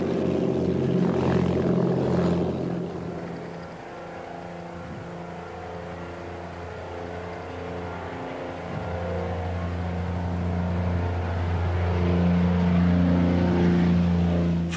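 A Basset test aircraft in flight, its propeller engine droning loud and steady with a sustained low hum that dips slightly in the middle, then swells again, with no voices.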